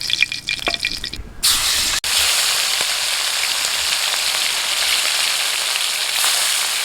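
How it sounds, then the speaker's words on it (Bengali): Fish pieces fry lightly in a hot pan, a bright, steady sizzle that starts after a clatter and a short pause, then continues alone at an even level. "আমি জাস্ট শুধু এপিটোপিট একটুখানি সেঁকে নিয়েছি, এখন তুলে নিচ্ছি"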